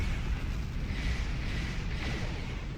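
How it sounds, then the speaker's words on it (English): Spaceship explosions rumble during a Star Trek Online space battle as a deep, sustained roar with soft swells and bursts. Faint and continuous, it has no clear separate blasts. "I saw 2 explosions."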